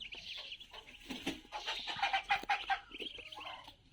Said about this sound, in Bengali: এই যে দেখেন আমার বাচ্চাগুলো আমার হাঁসের বাচ্চা